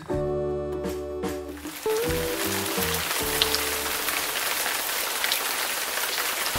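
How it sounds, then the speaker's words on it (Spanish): Rain drumming on a parked car while people shelter inside, a dense steady patter after a brief tonal sound at the start that fades out. "es la desagradable lluvia"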